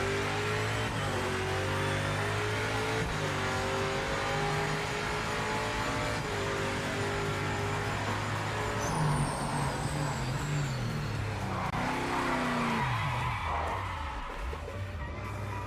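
Race car in Project Motor Racing, engine revving hard and shifting up and down through the gears, with a brief high tire squeal from a skid partway through, loud and continuous.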